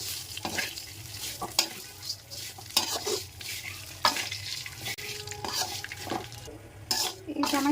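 Vermicelli (semai) frying in ghee and oil while being stirred, with a steady soft sizzle and repeated scraping strokes of a utensil against the pan, close and moderately quiet.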